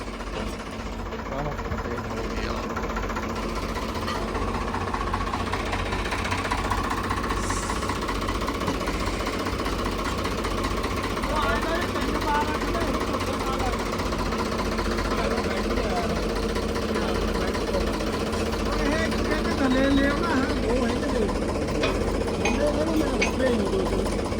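A tractor engine running outdoors near a sugarcane trolley stuck in the field, a loud steady low rumble with knocking throb throughout, voices talking over it.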